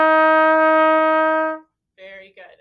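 A trumpet sustains one clean F, played with the first valve, for about one and a half seconds, bright and close with rich overtones, followed by a short spoken phrase after a brief silence.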